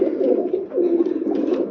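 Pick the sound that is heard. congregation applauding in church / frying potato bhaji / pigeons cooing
pigeons cooing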